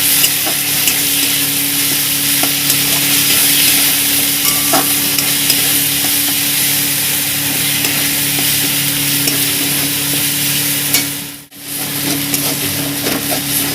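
Fried onion with ginger and garlic paste being stirred in a pan, a steady close sizzle with continuous scraping strokes and a brief pause near the end.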